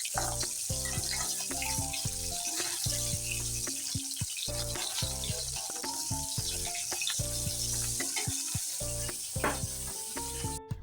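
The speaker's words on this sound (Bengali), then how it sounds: "এখানে এই যে ছাটি মাছ ভাজা হচ্ছে।" Shati fish fry in a pan with a loud, steady sizzle, sputtering oil crackles running throughout, layered under intermittent tonal background sounds.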